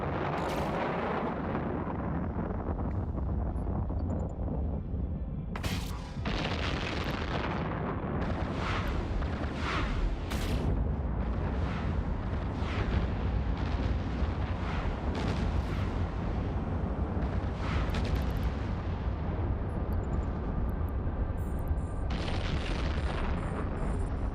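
Missile impacts and explosions in EVE Online boom and roar in repeated bursts over a steady rumbling space-battle din, loud and layered with sharp blasts throughout.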